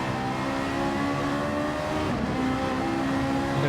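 Ferrari race cars at a Ferrari Challenge event roar in a dense, continuous engine drone, heard steadily from on or near the cars at moderate level with no pauses.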